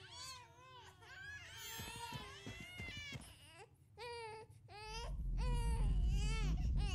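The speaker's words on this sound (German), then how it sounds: "Kinder schreien. Es wird auch immer lauter, das Kinder schreien." Children crying and screaming in the horror video game Paranormal, shrill wailing sobs rising and falling in repeated bursts, growing louder toward the end over a swelling low rumble.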